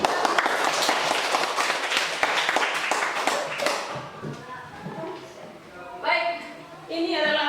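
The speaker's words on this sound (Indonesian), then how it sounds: "Tepuk tangan untuk kita." A classroom of students clapping together as a group, a dense burst of applause for about four seconds that fades out as a voice starts talking.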